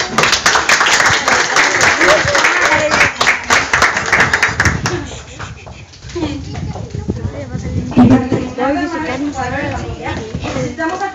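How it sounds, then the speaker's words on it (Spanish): Clapping and cheering for a child's mother at a Frozen-themed kids' party fill the first half loudly and steadily, then fade as voices and chatter take over. "Un fuerte aplauso para la mami."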